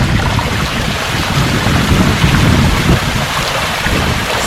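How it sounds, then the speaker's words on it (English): A backyard pool waterfall pours continuously, a loud, dense broadband rush of falling water with no break across the stretch. "Now let me turn on the waterfall and you guys can see how much noise that adds."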